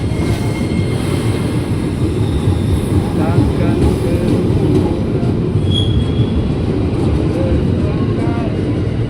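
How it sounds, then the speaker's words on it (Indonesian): A KRL commuter electric train rolls into Manggarai station, a loud continuous rumble with faint wheel squeal and rail clatter, close by, while people talk over it. "Ini dia nih KRL-nya."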